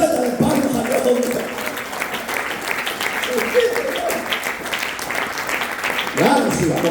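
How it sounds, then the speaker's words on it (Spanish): Church congregation clapping in a sustained round of applause, a dense crackle that swells and fades under voices speaking and shouting throughout. "Dale vuelta de palmas a Dios."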